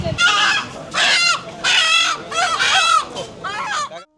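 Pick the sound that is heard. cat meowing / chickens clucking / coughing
chickens clucking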